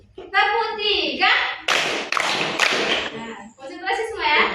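A class of children claps in a rhythmic set of three claps, loud and close, between stretches of a teacher's voice giving instructions.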